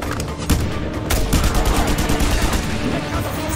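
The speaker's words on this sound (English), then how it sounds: "Stop throwing grenades!" Rapid gunfire and grenade blasts from the Just Cause 2 video game crackle in dense, overlapping bursts, loud and close throughout.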